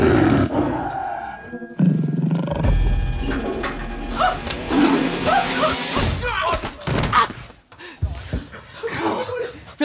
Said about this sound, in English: Phil, there is a tiger in the bathroom